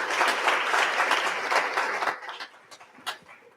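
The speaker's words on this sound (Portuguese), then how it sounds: "Quantos podem aplaudir o Rei?" Congregation applauding during a church service, dense broadband clapping for about two seconds before thinning out into scattered, fading claps.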